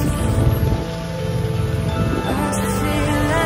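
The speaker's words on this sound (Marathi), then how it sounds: "आम्ही आलो आणि पाऊस चालू झालाय" Steady rain falls at a farmhouse, a continuous broadband patter with faint tonal sounds running underneath throughout.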